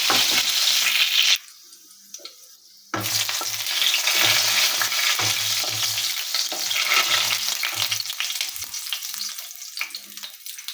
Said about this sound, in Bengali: এখন আমি দুই টুকরা তেজপাতা এবং গরম মশলা ও সাদা এলাচ দিয়ে ফোড়ন দিয়ে